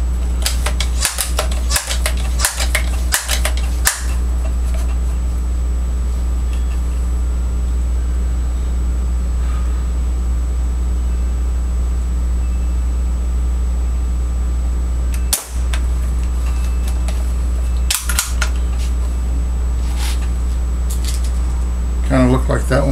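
A Crosman 760 Powermaster air rifle fires several sharp cracks, a quick cluster early and a few more later, with faint pumping sounds and a steady background hum in between.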